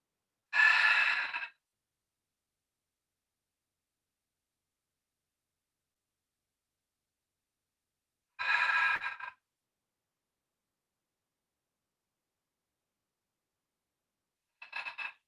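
Three forced exhalations during a Pilates exercise with the belly drawn in, heard as separate breathy bursts spaced several seconds apart against near silence.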